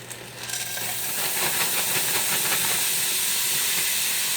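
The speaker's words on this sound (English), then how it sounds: "I'm going to just add it right into the pan frozen" Frozen riced cauliflower hitting a hot pan, giving a sudden loud sizzling hiss that swells within a second and then holds steady and close.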